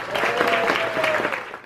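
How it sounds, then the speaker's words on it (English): A crowd at a wedding reception claps and cheers in a dense, lively burst of applause that fades out quickly at the end. "If I get a round of applause for Katie's grandma, Sharon Linville."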